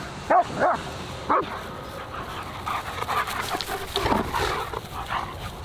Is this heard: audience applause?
no